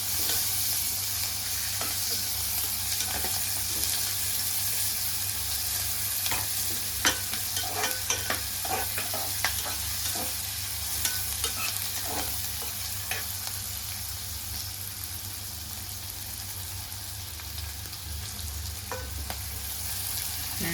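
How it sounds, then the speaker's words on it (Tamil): Onions sauté in a pan toward golden brown, with a continuous sizzle under repeated spoon scrapes and clicks of stirring, close by and without speech, plus a low steady hum beneath. "வெங்காயம் நல்லா பொன்னிறமாக வதக்கட்டும்."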